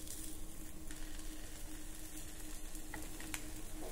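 Dal-rice appe fry in an appe pan over a low flame, giving a steady, gentle sizzle with a few faint clicks on top, continuous and close.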